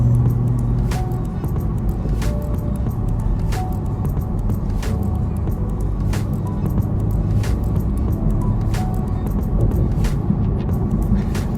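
Steady low road roar inside a BMW Z4 on a loud black road surface, a continuous dense rumble throughout with faint regular clicks, no talking.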